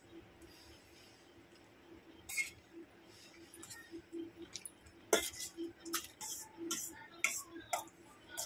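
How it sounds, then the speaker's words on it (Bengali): Boiled raw mango mashed in a bowl for ice cream, heard as faint scattered clinks and taps of utensil on the bowl that grow busier and louder toward the end, close by with a quiet room behind. "এবারে আমটাকে একটু আমি ম্যাশ করে নেব।"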